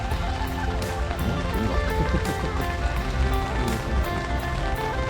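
Rain falls steadily during river fishing, a dense continuous patter and hiss over the water, with faint rhythmic tapping and low rumbling beneath it.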